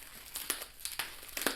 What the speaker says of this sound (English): Oh look, the sound of freshness,